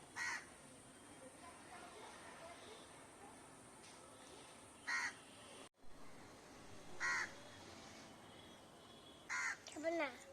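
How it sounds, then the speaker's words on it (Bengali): A crow caws a few times from a moderate distance, short harsh calls scattered over a quiet, hissy background. "কাক ডাকছে"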